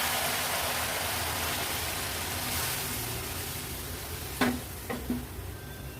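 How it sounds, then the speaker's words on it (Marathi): Boiling water goes into a pan of frying mutton chops. A steady hiss fades a little, then a few sharp splashes and clatters follow near the end. "चाप झटपट शिजण्यासाठी हे उकळतं पाणी ॲड करूया"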